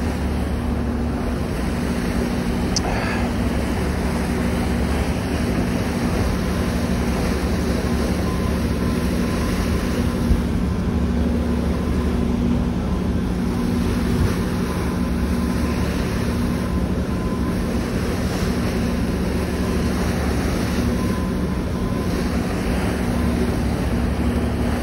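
The Halifax Transit ferry Christopher Stannix runs toward Woodside with a steady, low engine drone and a broad rush of water and wind. The noise stays even and continuous throughout.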